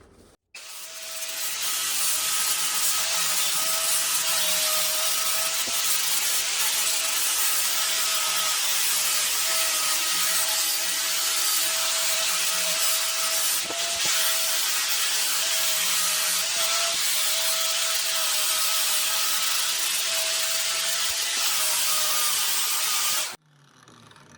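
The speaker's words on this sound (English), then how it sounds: "let's try this angle grinder" Angle grinder polishing the head of a Harbor Freight axe, a loud continuous high whine with a steady grinding hiss that runs unbroken for over twenty seconds before cutting off abruptly.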